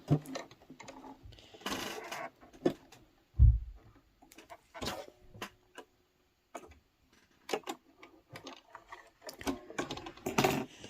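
Domestic sewing machine turned slowly by hand to draw the bobbin thread up, giving soft scattered mechanical ticks and clicks in an irregular rhythm, close and fairly quiet with brief gaps between.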